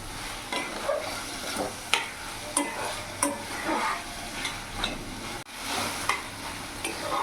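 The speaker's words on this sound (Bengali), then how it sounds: "ভালো করে নাড়াচাড়া করে কিছুক্ষণ কষিয়ে নেব" Spices and chopped green chilli stir-fried in a pan for a chickpea ghugni, with a steady sizzle broken by regular scrapes and knocks of the spoon against the pan, close and continuous throughout.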